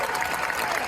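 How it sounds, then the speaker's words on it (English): Crowd applause for the cast at an Andor Series 2 Q&A event in London, a brief burst of steady clapping from a large audience. "give a good applause to the whole cast that's here"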